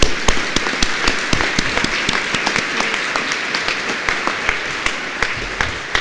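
An audience at the CHI 2008 conference applauds a keynote speaker walking on stage. Many hands clap in a steady wash with sharp individual claps close by, lasting the whole stretch and fading slightly toward the end.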